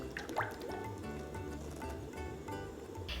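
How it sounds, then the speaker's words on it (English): Vegetable oil poured into a cooking pot, a soft, faint glugging trickle with a few small drips, heard alone and close. "Now pour the vegetable oil into a pot and heat it up to 350 degrees Fahrenheit."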